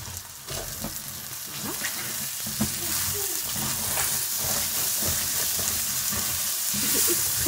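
Frozen peas hit a hot pan of rice and bell pepper, giving a loud, steady sizzle and crackle with occasional stirring scrapes and clinks throughout.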